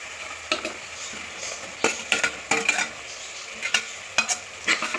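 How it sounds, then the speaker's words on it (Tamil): Tomatoes sauté with ginger garlic paste for a chicken gravy, with a low sizzle under repeated clinks and scrapes of a spoon against the pan in an uneven rhythm. "தக்காளி போட்டு நல்லா வதங்கணும்"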